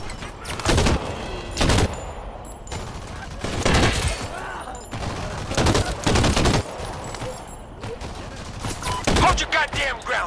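Loud bursts of video-game gunfire come in repeated volleys with short gaps between them, while a voice talks over the shooting.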